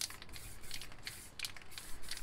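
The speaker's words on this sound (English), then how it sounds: "So I'll just spray" A spray paint can, Montana White, sprays a background in short, faint hissing bursts with a sputtering cap, close by and quiet, with no voices.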